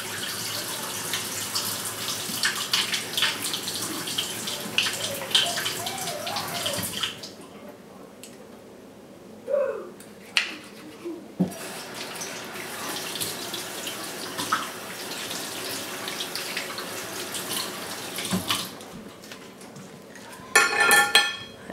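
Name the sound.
water running while washing scissors with soap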